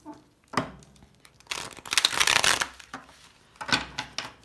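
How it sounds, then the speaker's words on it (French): Rider-Waite tarot cards are handled and laid out on a table, crisp papery slides and snaps coming in a few separate bursts, close up with no talk. "On va poser les 7 cartes."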